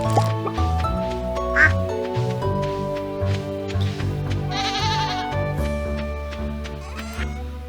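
A goat bleating inside a farming video game, short bleats under tonal game music with dripping and pouring liquid effects.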